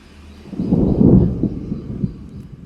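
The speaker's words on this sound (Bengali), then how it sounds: "শুনেছি 7 তারিখ পর্যন্ত নাকি এরকম মেঘ গর্জন বৃষ্টি হবে" Rolling thunder in a rainstorm: one long, deep rumble that swells, peaks and slowly fades, fairly close and loud, with no voices.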